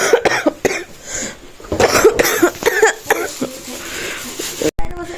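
Several harsh, close coughs and wheezy breaths break out indoors at night, mixed with people talking.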